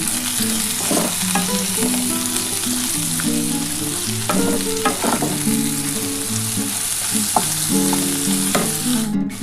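Soybean chunks and potatoes fry loudly in a pan, with a dense, constant sizzle and frequent scraping and stirring clatter close by. Tonal music plays underneath, and no one speaks.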